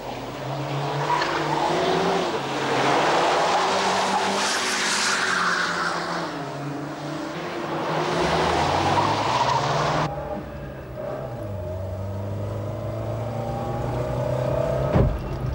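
A car speeding away with tires squealing, loud and close, the engine revving and shifting pitch in several surges before a sudden change to a steadier, fading drone.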